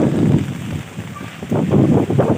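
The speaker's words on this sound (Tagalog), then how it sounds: "balik na po ulit tayo kasi lumalakas pa rin yung hangin niya" Strong typhoon wind during Typhoon Paeng in Bicol with heavy rain, a loud, continuous gusting roar buffeting the microphone, surging and easing in waves.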